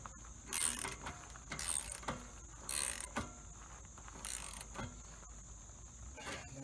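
A wrench ratchets in short bursts of metallic clicking while tightening a new anode rod fitting on a 2018 Summerland 3030bh RV water heater, close up with pauses between strokes and no speech.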